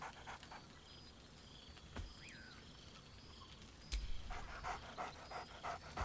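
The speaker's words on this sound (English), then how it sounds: "Scratch barks merrily in something like agreement." Scratch, the dog in Baldur's Gate 3, pants quietly with a couple of short, sharp barks and light scuffling, faint and close.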